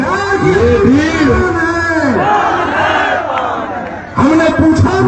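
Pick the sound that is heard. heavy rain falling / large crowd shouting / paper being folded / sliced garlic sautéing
large crowd shouting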